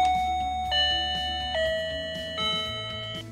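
A DioBell BO-2+ connected doorbell cycles through its ringtones: sustained electronic chime tones shifting pitch in a steady sequence of four notes, clear and close with no talk.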